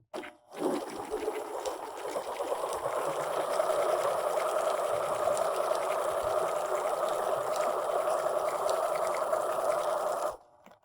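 A sewing machine runs steadily for about ten seconds, stitching fabric down a marked line, with a continuous close, even whirring hum that starts and stops cleanly.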